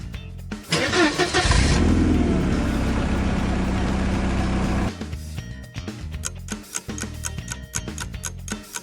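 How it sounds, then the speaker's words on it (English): A car engine starts and revs loudly with a sustained roar for several seconds, then cuts to a choppier, uneven passage of engine and road noise, with no voices. "This is the sound of a car."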